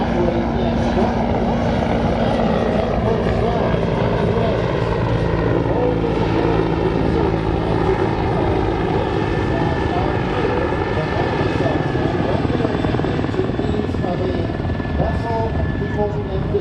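Griffin search and rescue helicopter at an air show over calm water, a steady rotor and engine drone that fills the whole stretch at close range, with crowd murmur and faint voices underneath.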